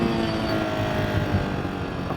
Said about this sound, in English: Let's do some downshifting here.